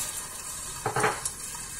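Tomato paste hits hot oil in a pressure cooker, giving a short burst of faint, close sizzling with a few soft crackles over a quiet kitchen background.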